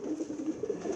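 Pigeons cooing in a loft: soft, low, rolling coos that repeat in quick, uneven pulses, faint and close, with no talking over them.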